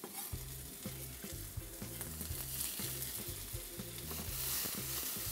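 Small garlic cloves, coarsely chopped, frying with finely diced red, yellow and green bell peppers in a pan; a steady, close sizzle with soft stirring scrapes throughout, no voices.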